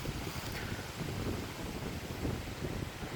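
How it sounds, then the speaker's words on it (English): Steady wind buffets the microphone on a Thursday morning during the Sturgis Motorcycle Rally in the Black Hills, a continuous low rumbling roar with gusty swells throughout and no voices. "We got some wind now too."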